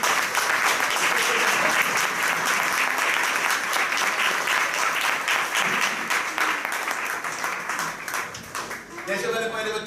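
Audience applause at the close of a Christmas church school program, a dense sustained clapping that fills nearly the whole stretch and thins near the end as a voice returns.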